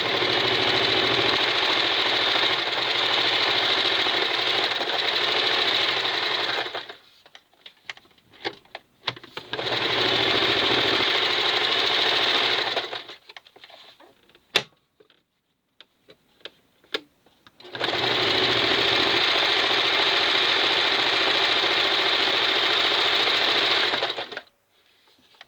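A Kenmore 1551200 straight stitch and zigzag sewing machine running on a large stitch setting, loud steady whirring in three long bursts separated by short pauses with faint clicks and handling noises.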